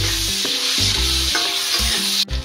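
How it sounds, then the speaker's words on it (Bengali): Salted potatoes fry in hot oil until reddish, a loud continuous sizzle up close with stirring scrapes and a brief knock near the end. "আলুগুলোকেও লাল করে ভেজে নেব"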